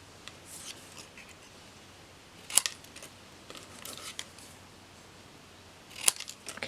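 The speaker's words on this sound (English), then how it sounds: "So you're going to cut the trunks off of all of them." Scissors cut paper tree trunks off pieces for a handmade card: soft snipping and paper rustle, with two sharp, distinct snips spaced a few seconds apart, close and quiet with no talk.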